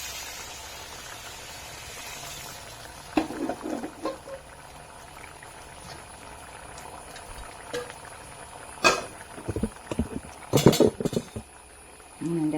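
A pot of curry bubbles softly at a low simmer, with scattered louder clatters and kitchen handling noises toward the end.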